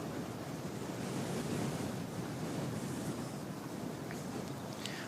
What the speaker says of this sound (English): Oof, where did this wind come from?